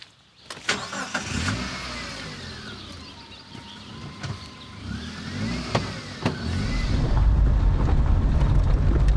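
A car engine starts, revs and accelerates with a rising, swelling roar. Clicks and a whine sit over the noise, which builds into a loud, steady rumble toward the end, with some wind buffeting on the microphone.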